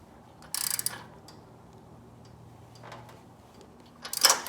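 A wrench tightens a spark plug on a lawn mower, making two short, quiet bursts of ratcheting clicks separated by a few seconds of near silence.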